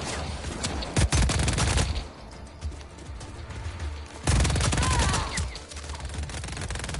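Rapid gunfire bursts from the video game Just Cause 4: two loud fusillades, one near the start and one past the midpoint, separated by a quieter stretch of lingering rumble.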